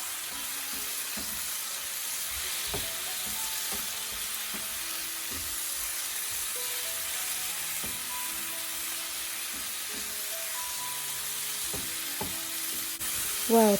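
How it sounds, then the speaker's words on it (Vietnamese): Mushrooms and tofu stir-fry in a pan, a steady, even sizzle and hiss that lasts throughout, broken by scattered clicks and scrapes from stirring, with a louder clatter at the very end. "Khi nấm mà nó đã mềm chín rồi, mình bắt đầu bỏ đậu hũ vô,"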